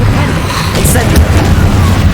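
An Incendio fire spell is cast in the Hogwarts Legacy video game, giving a steady, loud fiery rush with a bright burst partway through. There are no breaks for its two seconds.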